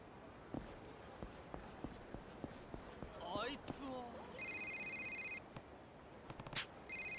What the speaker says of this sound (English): I must have accidentally brought the man's phone with me.